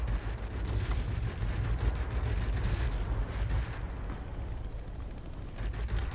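Aircraft guns rattle in continuous rapid bursts in the World of Warplanes game from an I-260 fighter, a dense, loud fusillade that thins out briefly near the end.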